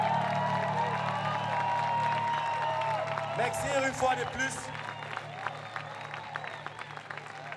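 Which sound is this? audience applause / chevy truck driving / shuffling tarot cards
audience applause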